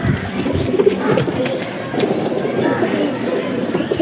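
Pigeons of Madras and Fulshira breeds cooing in a loft, with soft low murmuring coos close by under ongoing talk and rustling.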